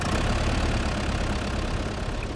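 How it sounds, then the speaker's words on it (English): A simulated airplane engine in a flight video game settling into a steady, loud, rough idle, continuous with no pauses. "Turn on the engine."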